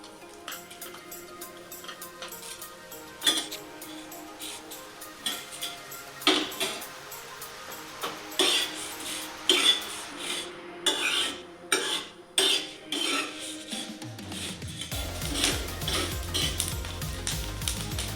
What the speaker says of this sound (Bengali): দেখো আমাদের মশলাগুলো ফুটতে শুরু করেছে ফোড়নটা দেখো খুব খুব শব্দ হচ্ছে আওয়াজ হচ্ছে